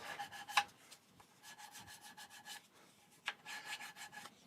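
Wood is hand-smoothed with abrasive grits in repeated rasping back-and-forth strokes, soft and close with a steady rhythm and a few sharper scrapes, with no talk.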